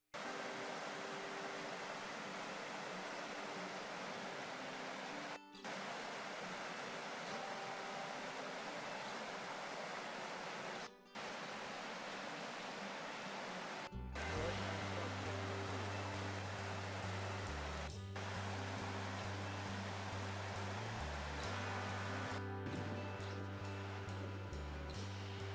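A river waterfall in winter roars in a steady, dense wash of rushing water throughout, with a low droning hum joining partway through.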